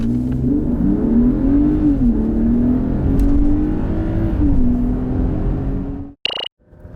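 A 2019 Mercedes-Benz GLE 450 4MATIC accelerating hard from inside, a loud sustained engine drone rising in pitch through gear shifts for about six seconds, then cutting off abruptly with a short electronic beep.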